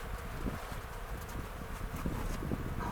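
A dense, continuous buzzing of many honey bees close by at an apiary hive, with faint rustling underneath.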